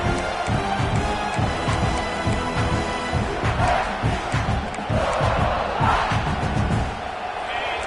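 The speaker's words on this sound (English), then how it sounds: "listen to this crowd noise. This stadium is vibrating." A huge stadium crowd in a video game roars and chants continuously, loud and dense, with rhythmic thumping beats pulsing underneath.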